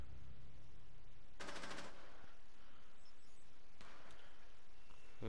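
Gunfire in the tactical shooter game Rainbow Six, two sharp bursts of shots about two seconds apart over a low background rumble, fairly quiet overall with no talking.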